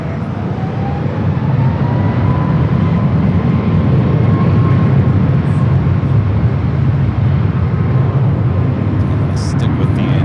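A Southwest airliner taking off from runway 24 left at LAX, a loud, sustained roar of jet engines with a slowly shifting whine, heard from a distance at the airport.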